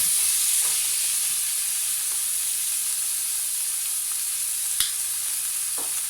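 Minced meat seasoned with oregano sizzles steadily in a pan while being stirred, a constant close frying hiss with a few faint scrapes and clicks of the utensil.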